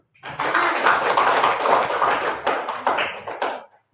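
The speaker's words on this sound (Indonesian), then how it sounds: "Kita beri aplaus untuk kelompok 1." Group of students applauding a class presentation, a burst of dense clapping lasting a few seconds, close and fairly loud, fading out at the end.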